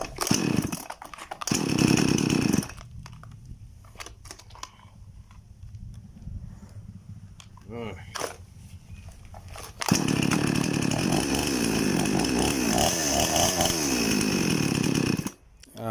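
A small chainsaw engine, just after a carburetor cleaning, revs loudly, drops to a rough idle for several seconds, then roars back up and runs steadily before cutting off.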